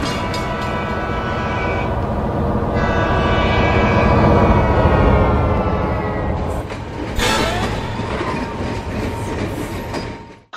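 A freight train rumbles past close by, a loud continuous roar of rolling cars with rhythmic clatter and metallic squeal, easing slightly near the end.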